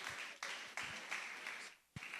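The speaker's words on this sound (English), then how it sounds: "Please, a round of applause for Oluwaseun Olaniyan." A small audience gives a short, faint burst of applause, uneven clapping rising and dipping over about two seconds in a quiet room.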